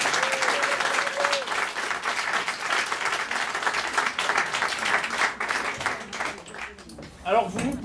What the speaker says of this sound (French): Et on les applaudit très très fort.